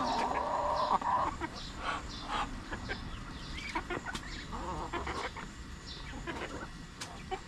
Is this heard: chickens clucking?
yes